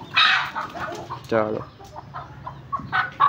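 Miniature chickens clucking in short bursts close by, mixed with people talking and a brief call from a man in Hindi.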